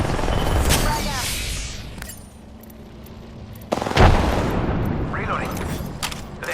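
A frag grenade goes off in the Apex Legends video game: one heavy, sudden blast midway, surrounded by gunfire, game effects and voices talking.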